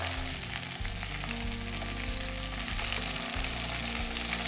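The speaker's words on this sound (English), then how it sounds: "when it hits that oil, it sizzles up straight away. Whoa, that's a great sound." Ginger and star anise fry in hot oil in a pan, giving a loud, steady, close sizzle that holds throughout with no talking.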